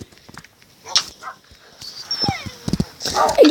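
Tamed wolves in the Minecraft video game yelp and whimper in short, scattered bursts amid game combat noises, heard alongside a player talking excitedly.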